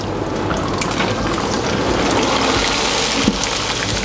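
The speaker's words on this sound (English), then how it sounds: "Just going to throw them into the fryer. They're going to puff up." Crispy rice vermicelli noodles frying and puffing in a deep fryer for char siu salmon, a loud continuous crackling sizzle with dense bubbling, close and alone.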